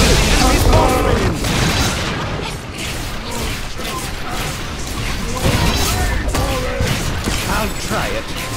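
Unstable rift destroyed in the video game Orcs Must Die! Unchained, a loud, dense wash of booming blasts, crashing impacts and mechanical clatter that goes on without a break, layered with game voices.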